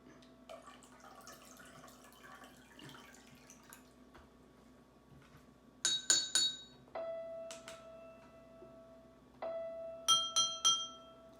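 Glasses filled with water and tapped like a xylophone, giving bright ringing pitched tones in two quick bursts of strikes, with sustained notes between them and soft handling noises before.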